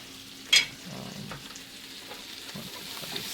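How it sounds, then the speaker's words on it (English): Steady, gentle sizzling of tofu frying in a pot, with a brief sharp clatter near the start and soft stirring sounds throughout. "You hear the sizzling in the pot?"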